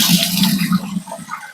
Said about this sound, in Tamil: இந்த அழுக்கான தண்ணிகள் எல்லாம் என்ன ஆகும்னா, இந்த ஹோல்ஸ் வழியா இங்கிட்டு வந்துடும்